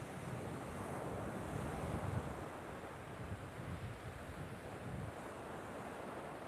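Steady ocean surf rolls onto a beach at sunrise on the Sam Roi Yot coast, a continuous wash of breaking waves mixed with wind rumbling on the microphone, moderately loud, with no voices.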